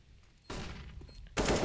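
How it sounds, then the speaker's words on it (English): Rapid gunshots from a Counter-Strike match on the Mirage map, two quick loud bursts of firing in close succession with no talk. "Fast shots here from Furia."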